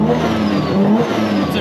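A car fitted with a large T28 turbocharger revs hard in a short, loud burst, its engine note rising and falling with a whirring edge.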